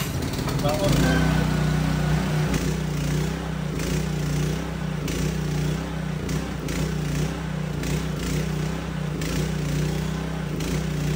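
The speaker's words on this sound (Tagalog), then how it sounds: "gamitin naman natin ng full potential niya which is 160 amperes kapag ginagamitan natin ng makakapal na welding works tulad nito" A PK160A inverter welding generator runs at a full 160 amps while welding thick steel, making a continuous engine drone and hum that holds steady under someone talking nearby.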